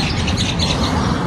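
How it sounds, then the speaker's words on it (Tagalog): Birds chirp outdoors by a school pickup route, bright scattered tweets layered over a steady background wash, fairly close and continuous, with no talk. "Normal dito marinig mo yung mga huni ng ibon."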